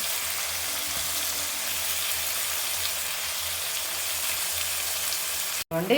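Tomato frying in oil in a pan while aloo poriyal is being cooked, a steady dense sizzle and crackle held close and even for several seconds, with a brief break near the end.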